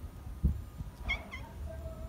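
A cat gives a short, faint meow, followed by a thin trailing note, in an otherwise quiet street setting with a soft thump before it.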